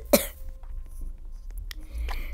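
Single sharp cough near the start, loud and close, followed by faint room noise and light shuffling with no talk.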